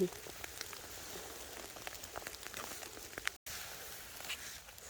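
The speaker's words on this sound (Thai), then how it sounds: "ฝนตกอีกแล้วพี่น้อง" Light rain pattering on surfaces during mushroom picking in a Norwegian forest, soft and close with scattered drops and occasional footsteps, faint throughout with a brief dropout.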